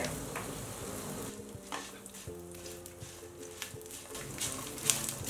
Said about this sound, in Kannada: ಲೋ ಫ್ಲೇಮಲ್ಲೇ ಘಮ್ ಅಂತ ಸುವಾಸನೆ ಬರೋವರೆಗೂ ಫ್ರೈ ಮಾಡ್ಕೊಳ್ಳೋಣ